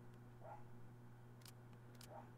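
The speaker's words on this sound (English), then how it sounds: "I hope you guys don't hear my dog barking." A pet dog barks indoors, two brief faint yaps spaced well apart, distant and low under a steady background hum.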